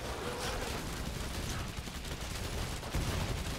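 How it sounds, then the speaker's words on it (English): Rapid gunfire in the co-op zombie shooter Killing Floor 2, a dense, continuous barrage of shots with loud bursts throughout and no clear gaps. "I'm blind shooting right now."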